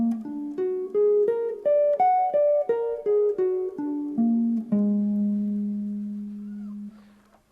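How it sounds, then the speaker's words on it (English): A lone guitar plays a dominant flat 13 arpeggio, notes picked one at a time rising and then falling, closing on a long ringing low note that slowly decays, close and clear. "the dominant flat 13 arpeggio or dominant sharp 5,"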